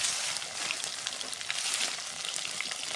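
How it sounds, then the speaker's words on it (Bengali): Raw cumin seeds and chopped garlic frying in hot oil, a steady close sizzle with fine crackling spits throughout, no voices. "আগে এটা ভাজে নেব। কাঁচা জিরা দিলাম, রসুন কুচি দিলাম"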